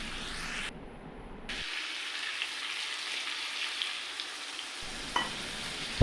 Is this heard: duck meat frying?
yes